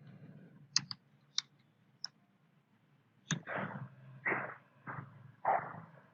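Typing subtitle text on a computer keyboard: a few sharp isolated key clicks, then denser bursts of tapping in short clusters, close and fairly quiet, with no talk.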